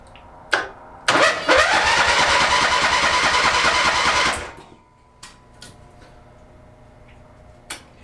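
Engine on a homemade tow-behind backhoe cranking hard for about three seconds, a loud rapid mechanical churn that cuts off and leaves faint clicks and a light hum, after a few sharp knocks beforehand.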